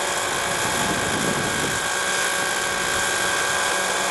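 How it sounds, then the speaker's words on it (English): A Raptor 30 v2 nitro RC helicopter on its maiden flight gives a loud, steady high-pitched engine whine with rotor buzz, continuous and close throughout, with no talking. "A little first time helicopter action."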